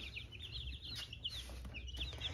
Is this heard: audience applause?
no